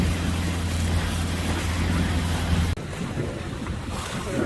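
Sailboat sailing under the five-mile Mackinac Bridge in about 10 knots of wind, with steady loud wind buffeting the microphone over the rush of water along the hull and a low hum that cuts out partway through.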